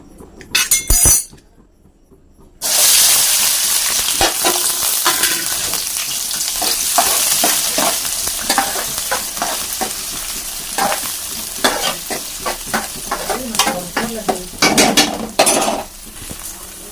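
Fish curry frying in hot oil in a village-style home kitchen, with a steady loud sizzle under repeated metal clinks and scrapes of a spoon stirring the pan, after a few sharp knocks at the start.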